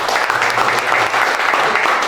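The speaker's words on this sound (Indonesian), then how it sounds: "Tepuk tangan dong untuk komsel." Audience applause at a large church cell-group gathering, a steady dense wash of clapping from many hands, loud and sustained throughout.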